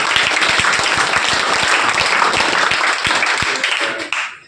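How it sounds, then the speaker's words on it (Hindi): Loud, dense applause from a crowd at an Indian school event welcoming top-scoring students, a steady roar of clapping that holds for several seconds before cutting off abruptly. "जोरदार ताली"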